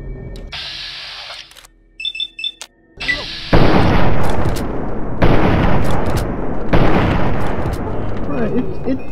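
Hunting rifle fire in Fallout 3: after a few faint clicks, loud booming shots ring out one after another, each followed by a rumbling tail, separated by brief gaps.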